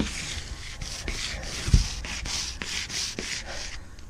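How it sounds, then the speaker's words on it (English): Hand sanding on a Thunderbird tri-hull boat's hull during a second pass: steady, rhythmic rasping strokes about every third of a second, close and continuous, with one brief low knock partway through. "Sanding this a second time."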